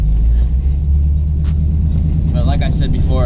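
A Chevrolet K5 truck with ACCUAIR air suspension set on level 2 drives along with a steady low engine rumble and road noise inside the cab, with someone talking over it.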